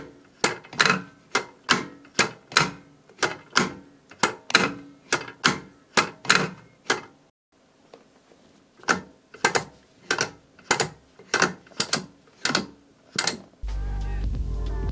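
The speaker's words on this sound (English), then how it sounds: "if you think that the shifter is too loud, you can stick these on top of the gate and this will dampen the sound of the shift" A MOZA HGP gear shifter clacks through repeated shifts, with and without rubber dampers on the gate: a steady run of sharp, close clicks, a short pause, then a second series of similar clicks.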